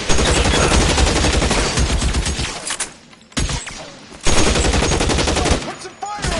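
Gunfire in the video game L.A. Noire: loud, rapid automatic bursts in long strings, broken by short pauses, with a voice speaking between volleys.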